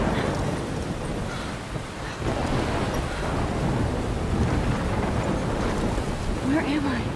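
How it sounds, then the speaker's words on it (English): Constant heavy rainfall from a video-game thunderstorm in Life is Strange hisses alongside low rolling thunder, loud and enveloping, with a faint whistling tone near the end. "Like the sound of that rain."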